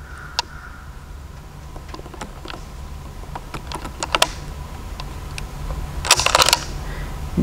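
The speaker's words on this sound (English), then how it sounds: "Just gonna pull back and rotate, and that locks it in place." M44 Mosin carbine bolt worked by hand, a series of sharp metallic clicks and clacks from pulling back and rotating the bolt, close and crisp over a quiet background, ending with a louder rattling burst.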